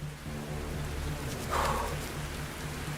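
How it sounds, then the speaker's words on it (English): Animated sulfuric acid rain falling on an exoplanet, a steady hiss of downpour with a low droning hum underneath and a brief swell in the middle, continuous throughout. "I want to get out of this rain."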